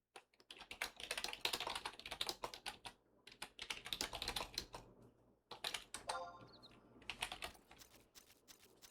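Computer keyboard typing during a live-streamed online game session, with rapid bursts of clacking keystrokes in uneven runs separated by brief pauses, close and fairly loud, with no talking.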